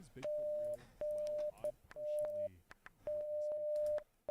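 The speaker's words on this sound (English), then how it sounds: "sometimes the Morse code signals can overlap on each other" Beeping Morse code tones overlap in a Godot-made game, steady mid-pitched pulses of varying lengths stacking into a cluttered, hard-to-read rhythm, fairly loud and close with no talking.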